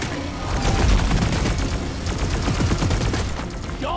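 Rapid turret fire in Halo Infinite, a dense, loud stream of booming shots that rolls on steadily for about four seconds before a brief electronic chirp at the end.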